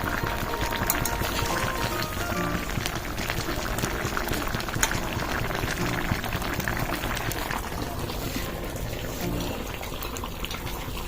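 A pot of pangas fish curry simmering and bubbling on the stove, a steady, close, dense boil running throughout without pause.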